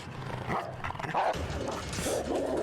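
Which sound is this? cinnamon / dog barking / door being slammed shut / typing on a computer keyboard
dog barking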